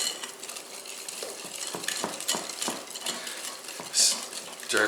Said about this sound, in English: we're going to break up the yolks with the whisk and then just beat all of these ingredients together